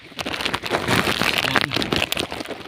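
Rain falling in a mangrove forest while crabs are hunted, a dense, close patter of drops crackling on leaves and surfaces, loud and continuous with uneven bursts.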